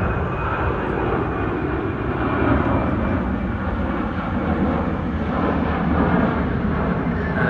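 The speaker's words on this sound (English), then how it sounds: "And this is the last ever departure of a 767. And there she goes." Qantas Boeing 767-200F freighter departing on its final flight, a loud steady jet engine roar that fills the whole stretch, broad and rumbling with no speech.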